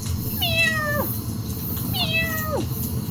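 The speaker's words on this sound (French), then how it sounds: "Un miaulement retentit alors." A wild cat in a forest gives two separate drawn-out meows, each falling in pitch, heard clearly over a steady background hum.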